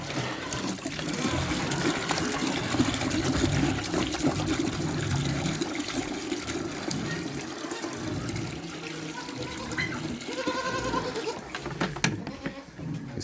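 Water is poured out steadily for farm animals, a continuous close splashing and trickling with goats bleating intermittently around it.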